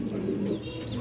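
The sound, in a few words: pigeons cooing at a pigeon market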